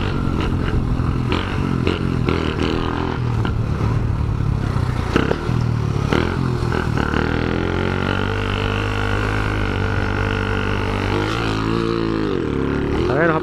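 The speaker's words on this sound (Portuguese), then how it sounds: "Só segurando o acelerador de segundinha na subida." Shineray motorcycle engine pulling uphill in second gear, a loud, steady close-up drone with rising and shifting harmonics, accompanied by some clattering.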